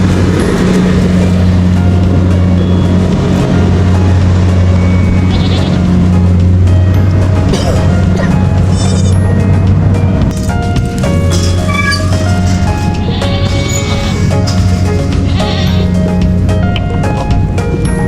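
Goats bleating in a rice-harvest setting, several loud, close bleats scattered over a continuous low engine-like drone, with overlapping calls through most of the stretch.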